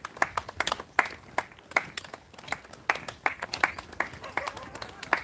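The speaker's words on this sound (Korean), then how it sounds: "이렇게 박수 쳐주는 주민들이 많기 때문에" Villagers in India clap for passing pilgrims, with irregular bursts of hand claps from several people, moderately near, scattered and uneven throughout.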